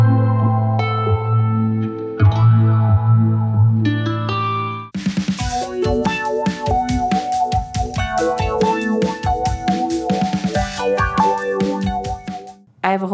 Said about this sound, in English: This is Float by Old Blood Noise Endeavors, and it's two filters, and you can run it in stereo